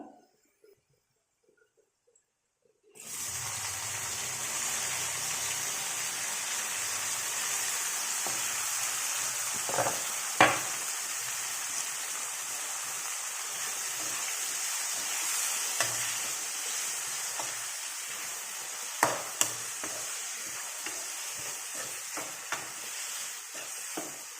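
Onions and tomatoes fry in a pan for egg curry, a loud, continuous sizzle that starts suddenly and holds steady, with occasional sharp pops and spatters and the clink of stirring.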